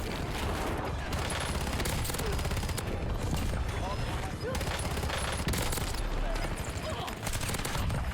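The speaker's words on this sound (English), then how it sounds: "That's actually shooting me in the back right now." Rapid gunfire from a Call of Duty Warzone match crackles in dense, continuous bursts of shots and explosions, loud and steady throughout.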